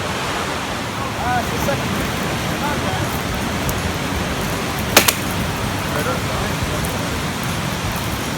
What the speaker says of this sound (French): on est au bord d'un torrent